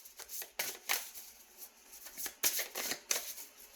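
Tarot deck being shuffled by hand, a run of crisp riffling and slapping bursts at an uneven rhythm, close and fairly quiet, with no voice.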